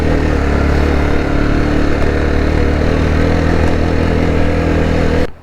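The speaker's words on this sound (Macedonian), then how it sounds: "слушам го се фали моторот" A motorcycle engine labours loudly and continuously up a steep hairpin curve on a dangerous mountain road, its dense rumble steady and close before cutting off sharply at the end.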